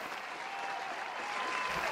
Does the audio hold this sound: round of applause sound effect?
yes